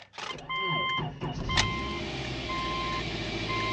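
A Subaru Outback engine runs steadily with a sustained high whine from a faulty power steering system over it, starting after a brief mechanical rattle; no talking.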